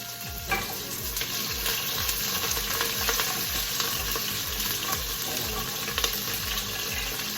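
A wooden spoon stirring a sizzling pan, a steady close frying hiss with a regular rhythm of low scraping strokes repeating roughly every half second throughout.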